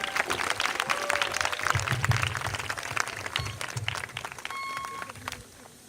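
Families at a school commencement ceremony clap for the speakers, a moderate patter of applause mixed with crowd murmur and voices, fading gradually toward the end.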